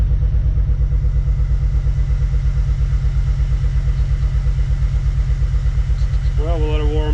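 A repaired car engine, just fitted with a working heater and a reconnected cam position sensor, runs at a steady rhythmic idle, loud and close, with a brief voice near the end.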